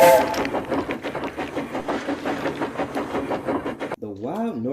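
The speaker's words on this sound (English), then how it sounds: "The Wild Nor'Wester is an important train on the island of Sodor" A steam train on a railway runs with a steady, rhythmic chugging and clatter under an orchestral score, cutting off abruptly near the end as a voice begins talking.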